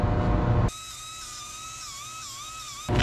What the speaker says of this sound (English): to screw that in, I'm using these. These are number 10 self-drilling screws